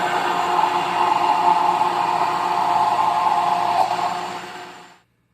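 An electric mixer whipping thickened dessert cream for a pavê, a steady loud whirring drone that holds evenly, then winds down and cuts off near the end.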